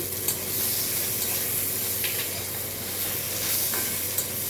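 Mango pieces fry in a pan with a constant close sizzle and hiss, broken by a few faint utensil clicks and taps.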